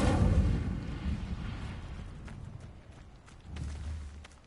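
Fiery Incendio spell cast in the Hogwarts Legacy video game, a loud rushing whoosh of flame that erupts at the start and fades over a few seconds, followed by a smaller burst near the end.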